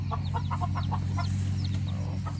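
A broody hen clucks in a quick run of soft, rhythmic notes while a brood of Rhode Island Red chicks peeps faintly around her, all over a steady low hum.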